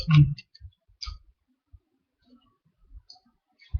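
Playing cards are counted out one at a time for a card magic trick, making sparse, close, crisp clicks and soft taps at an irregular pace in otherwise quiet surroundings.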